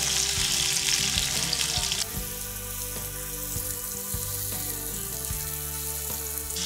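Pineapple sizzles and crackles steadily in a hot pan, with intermittent clanks and scrapes of a utensil stirring it.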